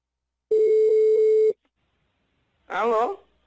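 A telephone call being placed as a prank, with a steady dial or ringback tone for about a second, then silence, then a short burst of warbling sound near the end.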